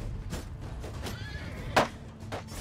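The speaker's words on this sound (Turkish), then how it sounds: "Atlar hızlı takılıyor." Horses in a Mount & Blade II: Bannerlord battle whinny and neigh, with a sharp, loud whinny near the middle over a low rumble of hooves and fighting.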